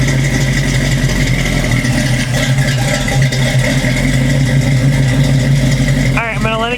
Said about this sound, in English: that's what the car kind of sounds like when it's idling, when it's cold.